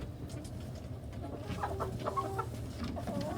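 Chickens cluck softly in short bursts against a quiet outdoor background, with no talking.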